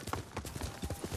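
A horse's hooves clip-clop in the video game Ghost of Tsushima, a quick, even run of close, crisp hoofbeats with no talk over them.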